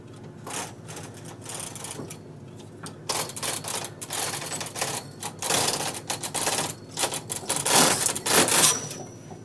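A Brother double bed knitting machine carriage is pushed across a row, giving clattering bursts of rapid mechanical clicks and rattles that build louder toward the end, with brief quiet gaps between pushes.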